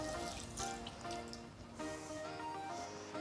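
Water from a kitchen tap runs steadily as something is rinsed while pickles are being made, giving a faint, continuous splashing trickle with a few small changes in flow.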